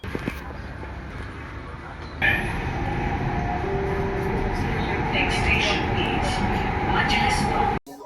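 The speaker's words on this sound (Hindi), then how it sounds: "अपनी मेट्रो आ चुकी है, ये देख सकते हो भाई ये रही" A metro train pulls into the station with a steady rumble and a rising whine, brakes hissing and squealing faintly before it halts abruptly.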